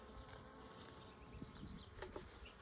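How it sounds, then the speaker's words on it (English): Wasps and hornets buzz faintly outdoors, a soft continuous drone with a few brief nearer passes, with no talking. "the wasps and hornets are already out here"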